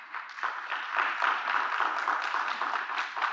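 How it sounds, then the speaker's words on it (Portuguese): At the CISO Forum 2023 stage event, an audience gives fairly faint, even applause for the panelists, a continuous patter of many hands at a distance. "Aplausos, por favor."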